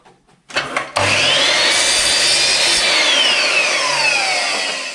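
A power saw spins up after a couple of brief knocks, then cuts hardwood panels in one long, loud, continuous whine that holds steady before easing slightly at the end.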